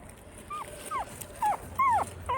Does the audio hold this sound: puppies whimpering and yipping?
yes